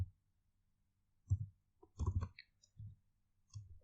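A few scattered clicks and taps from a computer keyboard come in short separate bursts with gaps between them. They are close and fairly faint against a quiet background, and nobody speaks.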